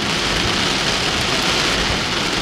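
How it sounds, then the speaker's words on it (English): Heavy rain driven sideways by howling wind during Tropical Storm Debby in Hudson, Pasco County, Florida, a dense, steady hiss that roars on without a break, loud and close with no talking. "the wind is howling, so it's making the rain go sideways"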